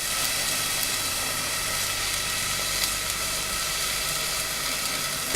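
Onions frying in a pan on the hob give a steady, soft, continuous sizzle with a faint hiss and no speech.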